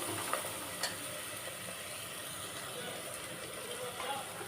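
Spices and sambar powder sautéing in a cooker make a steady, soft sizzling hiss with occasional faint clicks and stirring taps, close and low in level, with no talking.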